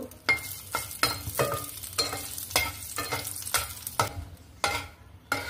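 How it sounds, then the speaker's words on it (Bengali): Dried red chillies frying in hot mustard oil, a close crackling sizzle broken by a regular series of spatula scrapes and stirs, about one per second, with no talk. "এখন দিয়ে দিব কয়েকটা শুকনো মরিচটাকে একটু ভেজে নিব"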